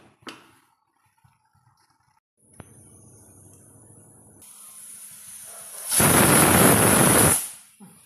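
A loud, steady pressure cooker whistle bursts out for about a second and a half while cooking chicken biryani, preceded by rising hiss and low kitchen rumble.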